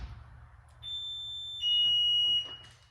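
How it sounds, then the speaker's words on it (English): Alarm on a Lamborghini Murcielago with a faulty door lock actuator going off: a close, piercing electronic tone that sounds steadily, then jumps to a louder, slightly lower pitch and holds before cutting out. "The alarm's gonna go off."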